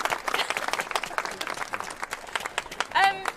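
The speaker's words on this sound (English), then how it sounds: "Can everyone give Caroline a quick round of applause?" A small audience gives a quick round of applause at a live event, scattered claps mixed with voices and a cheer, with a brief sharp tonal sound near the end.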